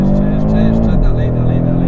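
An Audi RS3 engine drones loudly on a race track, holding steady before the pitch drops sharply with a gear change and then climbs again under acceleration.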